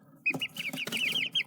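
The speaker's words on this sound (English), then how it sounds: "So yeah, chickens, 2 black ones" Two black chickens cluck close by, a quick series of short throaty clucks and squawks over about a second and a half.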